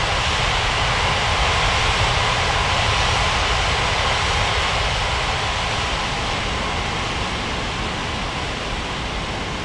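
Boeing 747-400 jet engines of an Air India airliner hold a loud, steady, broadband roar on the runway before takeoff, constant throughout with no voices.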